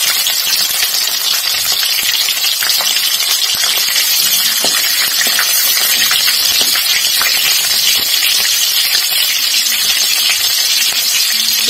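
Fenugreek seeds dropped into a hot pan with black mustard seeds, sizzling loudly and steadily in oil while being stirred for Indian potato-pea saloni, with small crackles and pops throughout.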